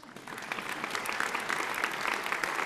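Steady audience applause during a governor's State of the State address in a legislative chamber, a thick wash of clapping holding at even volume throughout.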